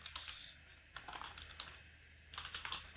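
Rapid typing on a computer keyboard while entering code, close and quiet, with bursts of clicky keystrokes separated by brief pauses.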